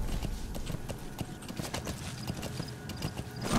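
Horse hooves from the video game Metal Gear Solid V: The Phantom Pain, a rapid, rhythmic clip-clop of galloping, close and steady throughout, with a faint voice briefly present.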